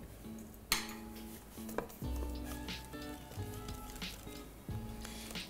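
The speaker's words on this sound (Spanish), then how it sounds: "Con una espátula rompemos esas piedritas del cacao que siempre se forman" Spatula scraping and knocking against a bowl while mixing brownie batter and breaking up cocoa lumps, a series of soft, close clinks and scrapes with short pauses between strokes.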